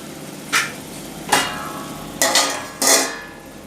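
Pav bhaji masala being stirred in a pan with a metal spoon, four sharp scraping clanks spaced irregularly over a low background hiss, no talking.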